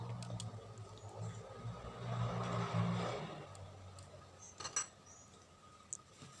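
Metal mixer whisk attachments clink and rattle as they are pulled out of a hand mixer and cleaned in a kitchen, with light taps and scrapes over a soft background hum.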